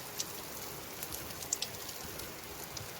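Rain falling in a steady, even wash with occasional sharper drips, moderately close and uninterrupted by talk.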